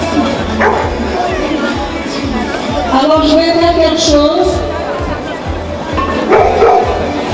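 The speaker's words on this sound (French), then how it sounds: "les voisins qui ont l'habitude de ne pas les entendre aboyer vont se dire là il y a un problème, voilà on va essayer, on va demander de l'aboyer." Dog barking on command at a dog club centenary event, repeated short barks under someone talking in French amid crowd noise.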